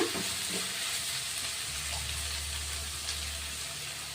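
Onions fry in a pan for a simple okra curry, giving a steady close crackling sizzle with faint stirring, unbroken for the whole stretch.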